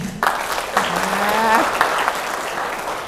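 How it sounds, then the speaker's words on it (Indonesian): Students in a classroom give sustained applause after a call for a volunteer, a steady wash of clapping from the group. A voice speaks briefly over it. "Kita kasih tepuk tangan nih"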